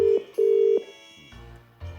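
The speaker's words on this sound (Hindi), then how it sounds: "फोन मिलाओ" Telephone dialing tones: a short steady beep, then a longer one, followed by quieter line noise and faint clicks, close and clear with no talking.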